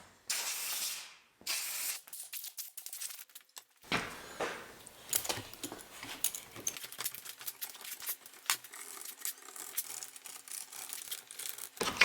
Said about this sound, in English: I'm just going to get the airline and blow all the dust out the joints everywhere.